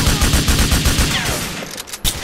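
Rapid bursts of automatic gunfire from a Grand Theft Auto IV shootout, loud and dense, rattling continuously before breaking off into a couple of sharper final shots.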